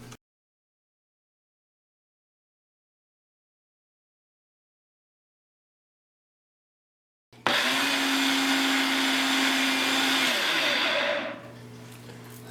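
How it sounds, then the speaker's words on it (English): A cup blender purees a mushroom cheese sauce made with onion powder, cayenne and spring water. After a long silence the motor starts abruptly with a loud, steady whir that runs for about four seconds, then winds down and stops. "I'm going to use a cup blender because it gets it nice and smooth"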